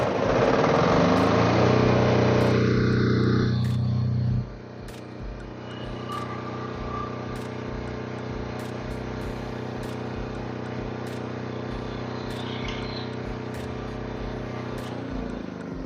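Portable 6.5 kVA generator roaring loudly at first, then dropping to a steadier, quieter running hum that continues close by with faint clicks and rattles.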